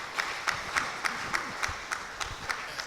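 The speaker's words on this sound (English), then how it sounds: "Please, a round of applause for him." A small audience at a community gathering claps in sparse, evenly spaced hand claps, light and moderately near.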